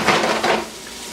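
Metal utensil scraping and clinking against a pan as basil fried rice is stirred, a short close burst of scrapes that fades after half a second.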